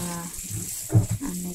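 Water runs from a tap while sapsap fish are rinsed to clear off dirt and sand, giving a steady close splash that swells briefly as the fish is moved under the stream.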